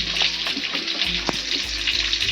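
Potatoes fry in hot oil, a steady close sizzle broken by spoon stirring knocks and scrapes against the pan, with no one talking.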